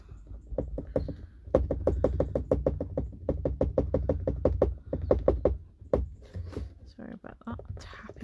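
Rapid finger tapping on a canvas while stickers are pressed on, a dense run of sharp close taps that keeps going for several seconds before thinning out, with a few softer sounds near the end.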